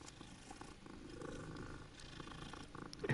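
A cat purring while being petted in the video game Hogwarts Legacy, a steady, close, low rumbling purr running throughout with no talk.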